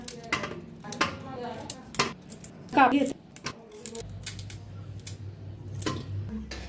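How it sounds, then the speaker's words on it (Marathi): Carrots being finely chopped with a knife on a board for carrot puri, sharp irregular chops in quick bursts, close and clear, with a brief voice partway through. "तर बारीक कापून घेतलेला आहे"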